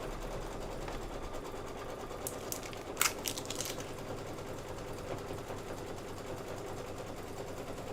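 An embroidery sewing machine stitches blue thread with a quiet, steady mechanical hum, broken briefly by a few sharp clicks near the middle.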